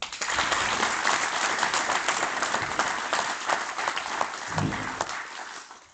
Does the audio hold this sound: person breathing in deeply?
no